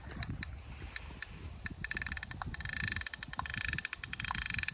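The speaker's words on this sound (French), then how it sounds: "T'apprécies le bruit du moulin?" Spinning reel on a light casting rod ratcheting in rapid clicking bursts while a catfish (wels) pulls drag, loud and close, with wind and water noise beneath and no talk.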